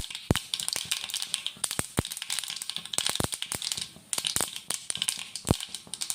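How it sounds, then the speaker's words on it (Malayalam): A spoonful of mustard seeds crackles and pops in hot oil in a pan on the stove, a dense run of sharp, irregular snaps, close and fairly loud, for a Kerala green tomato pachadi. "കടുകിട്ട് പൊട്ടുന്നുണ്ട്."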